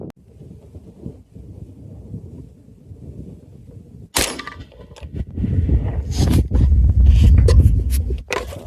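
A long-range rifle shot at a steel target outdoors: a quiet windy stretch, then a sharp loud crack followed by rumbling, gusty noise and scattered knocks, with no talk.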